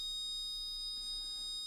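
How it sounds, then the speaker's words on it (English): A multimeter in continuity mode gives a steady, high electronic beep with its test leads shorted, continuous and unbroken throughout, fairly quiet. "it's a loud beep over here"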